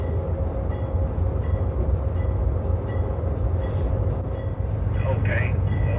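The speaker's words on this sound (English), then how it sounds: "Arriving at Los Angeles Union Passenger Terminal 2 hours and 30 minutes after leaving San Diego, Amtrak's train 579 completes its journey along the Surfline." Amtrak's Surfline train 579 from San Diego pulls into Los Angeles Union Passenger Terminal with a steady, loud rolling rumble of wheels and cars, a voice speaking over it.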